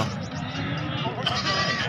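A goat bleats at a busy livestock market, the drawn-out call rising out of steady crowd chatter and a speaking voice close by.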